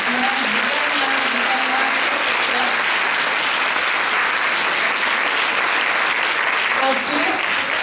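Sustained audience applause at a French-speaking secondary school ceremony, dense and steady for the whole stretch, with voices audible underneath the clapping.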